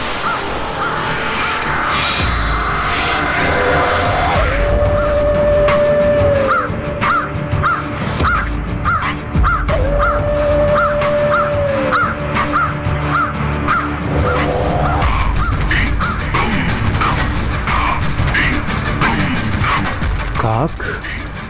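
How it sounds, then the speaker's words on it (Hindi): Crows caw repeatedly in short harsh calls, fairly close, over a dense background of music and rushing effects, with a voice speaking in places. "काक"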